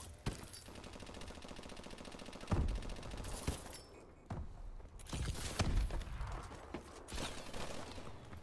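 Gunfire in Call of Duty Advanced Warfare, mostly a steady rapid rattle of shots with several heavier, sharper blasts standing out, mid-distance and fairly loud, with no talking.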